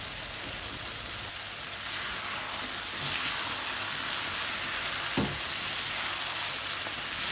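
Mutton karahi frying in oil in a wok, Peshawari charsi street style, a steady soft sizzle with light stirring clatter, close and continuous without talk.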